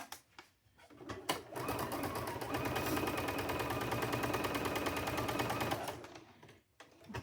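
A sewing machine runs a seam for about five seconds in a continuous, fairly close buzz, starting and stopping with a few soft clicks.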